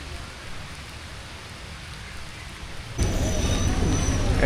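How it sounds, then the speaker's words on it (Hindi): Rain falls steadily and moderately during a rainy train journey between Attock and Rawalpindi, Pakistan, then abruptly grows louder and heavier partway through, continuing as a strong, close downpour. "बारिश इतनी तेज़ है कि मैं आगे जा नहीं सकता।"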